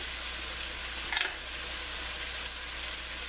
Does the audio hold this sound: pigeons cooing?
no